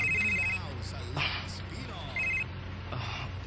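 A telephone rings in repeated electronic bursts, each trill short and clear, with quiet background noise between the rings.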